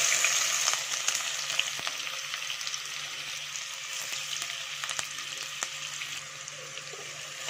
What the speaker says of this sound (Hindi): अब तेल गर्म हो चुका है, इसके अंदर 1 कप प्याज डाल रही हूँ कटी हुई।